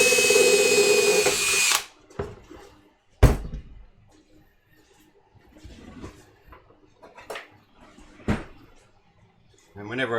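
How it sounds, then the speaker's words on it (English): A power drill whines loudly through a small hole in a plastic panel for about two seconds, then stops, followed by scattered clicks and knocks of handling parts in a quiet room. "whenever I drill a hole"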